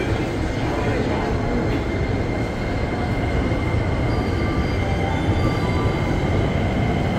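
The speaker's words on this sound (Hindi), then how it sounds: "यहाँ से मुख्तलिफ शहरों को जाने वाली ट्रेनें आती हैं" Steady train and rail noise fills a busy station in Yokohama, Japan, a continuous loud rumble with faint wheel squeal and no clear speech over it.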